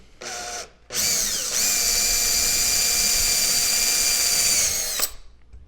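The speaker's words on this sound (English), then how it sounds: "I'm going to drill a little hole here." A power drill bores a small pivot hole through a wooden workpiece for a circle-cutting jig, with a brief burst, a short pause, then a steady loud whine lasting about four seconds before stopping.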